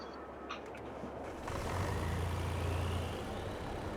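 A truck engine in the farming game Farming Simulator 22 starts up and settles into a low, steady rumble. Faint clicks and thuds come first, then the engine hum fills the rest of the clip, close and constant.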